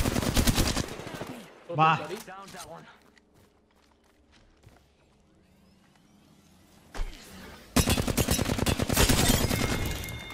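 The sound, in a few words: gunfire in the video game Apex Legends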